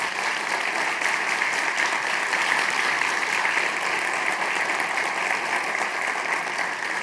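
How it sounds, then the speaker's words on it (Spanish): An audience at a science event gives sustained applause welcoming a government science minister, a dense, even wash of clapping that holds steady throughout. "Jimena Linconao, ministra de Ciencias, a quien recibimos con este aplauso, por favor."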